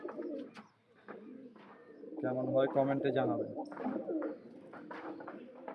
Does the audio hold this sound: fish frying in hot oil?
no